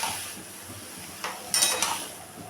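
Light scraping and clinks of stirring in a cooking pan as salt is mixed into bottle gourd, a few short bursts of utensil contact against a soft sizzle, close and fairly quiet.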